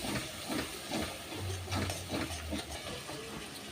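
Masala paste sizzles as it is sautéed in a pan for an eggplant and potato curry, a quiet, steady hiss with soft periodic stirring scrapes and a low hum underneath.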